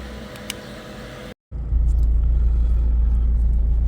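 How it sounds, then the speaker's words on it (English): Mitsubishi Evo 8 with a freshly replaced transmission mount and shifter linkage bushings, heard from inside as it drives off, with a low steady road and engine rumble that grows louder after a brief silent gap. "Let's drive the car and see the impression."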